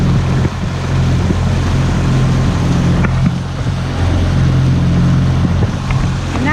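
A dinghy's outboard motor drones steadily while motoring across the water toward a brig, a loud, close engine hum mixed with wind buffeting the microphone and faint water splashes.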